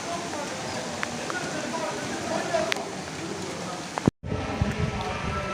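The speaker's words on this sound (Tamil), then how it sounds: "மழை பெய்யுது." Rain falls steadily on a hillside setting as a dense patter, interrupted by a brief sharp knock and a short break near the end.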